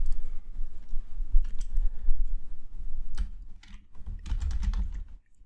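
Steady clattering of fingers typing on a computer keyboard, quick irregular key clicks close up with short pauses and no talking.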